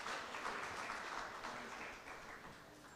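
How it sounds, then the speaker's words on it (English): Conference panel audience applauding as a speaker walks up on stage, a dense wash of clapping that stays steady and then slowly fades toward the end. "A round of applause as Nelson makes his way up on stage"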